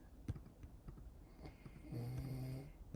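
A dad snores in the next room, faint and muffled, one long rumbling snore building in the second half among light clicks and taps.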